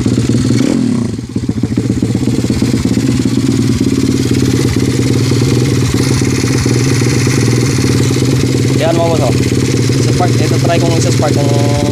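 A motorcycle engine fitted with a racing flywheel runs without a battery, a loud, steady, close mechanical drone with rattly clatter throughout and a few brief higher warbling tones near the end.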